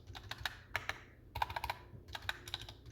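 Typing on a Ghost A1 mechanical keyboard, PewDiePie edition, with factory pre-lubed stabilizers: bursts of crisp, close key clacks in quick uneven runs, separated by short pauses, with no talking.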